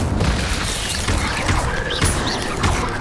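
An Incendio fire spell cast in the video game Hogwarts Legacy, heard as a dense, roaring burst of flame and rumbling booms that fill the full three seconds, loud and continuous with no talk.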